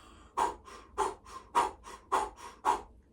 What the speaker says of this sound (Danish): et åndedræt, som hedder Cannon Breath, hvor at man former munden som et O, og så puster man kraftfuldt ud fra navlen af